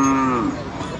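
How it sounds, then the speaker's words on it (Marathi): A bull gives a single sustained low moo, close and loud, filling the whole moment. "आमचा बैल हरण्या"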